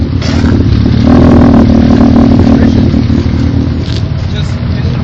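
A tuned car revving hard through an aftermarket exhaust, a loud, continuous engine roar close by that rises and holds, with voices mixed in.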